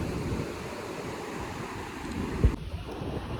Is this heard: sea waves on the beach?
yes